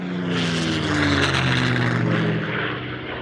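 Japanese propeller-driven warplanes of the Pearl Harbor attack roar overhead, a loud sustained droning of piston engines with a steady throb that swells and then slowly fades.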